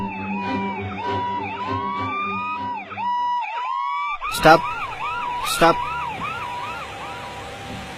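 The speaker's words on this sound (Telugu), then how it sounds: "టైంకి అంబులెన్స్ వస్తుంది." An ambulance siren wails in a repeating rising-and-falling pattern, loud and close over road traffic, while a person shouts briefly partway through.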